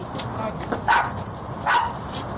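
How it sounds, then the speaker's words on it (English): A guard dog gives two loud, sharp barks close by, separated by a short pause, over a steady background hiss. "The guard dog sets off a 12-bark alarm"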